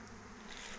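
A swarm of bees flying toward an apiary gives a steady, dense buzzing hum that fills the air at a fairly faint level without pause, with no talk over it.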